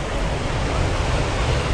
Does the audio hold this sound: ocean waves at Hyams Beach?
yes